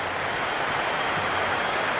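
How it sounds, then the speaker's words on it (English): Crowd in the stands at a cricket stadium during an IPL match between RCB and Gujarat, a dense steady roar of cheering and buzzing that holds at a constant level throughout. "There's a buzz, a real buzz coming from the stands."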